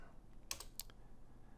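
Two short bursts of keystrokes on a computer keyboard during software setup, quiet and close against a faint background hum, with no talking.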